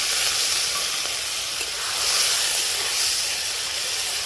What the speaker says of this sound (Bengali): সমস্ত মশলা আমার ভাজা হয়ে গেছে, আমি দিয়ে দিব মশলা জল অল্প পরিমাণ।